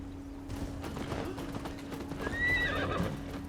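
Hooves clip-clop in a steady gallop in Assassin's Creed Valhalla, then a horse gives a loud, rising whinny near the end, with a low constant hum underneath.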